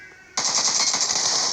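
Rapid machine-gun fire from a video game erupts abruptly after a brief quiet lead-in, a dense, loud, continuous burst of shots that carries on steadily to the end.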